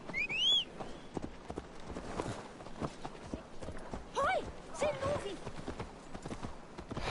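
Horse hooves clip-clop steadily in Assassin's Creed Valhalla, a brisk rhythmic trot heard at close range with game sound effects and occasional whinny-like tones, while someone talks over it.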